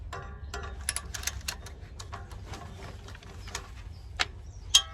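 A ratchet working on a tight 14mm bolt near the downpipe of a Toyota Yaris, a quick run of sharp metallic clicks in bursts, close and fairly faint, then a few isolated clicks.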